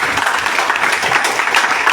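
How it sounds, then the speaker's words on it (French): Crowd at a political rally applauding, a dense and loud continuous clapping with no speech over it. "Ça s'applaudit."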